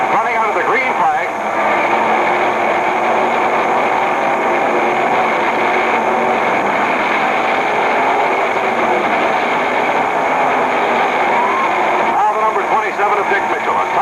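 Race cars at the 1964 Pittsburgh 200 roar around the track under a green flag, a continuous engine drone blended with crowd and a race commentator speaking throughout.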